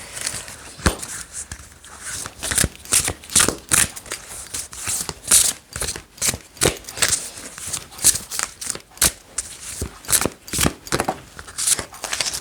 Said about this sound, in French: Je vais tirer la carte des fées.